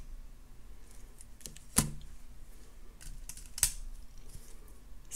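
Two crisp snips of cutters trimming excess wire while wrapping a loop on an agate point pendant necklace, each a short sharp click over a low steady room hiss, close and alone without talk.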